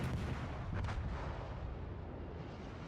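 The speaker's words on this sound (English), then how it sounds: "Okay, there's a gun shooting." Heavy gunfire in a naval warship video game booms as a dense, continuous roar of artillery blasts, loud and filling the whole stretch with rumbling low thuds, and no talking over it.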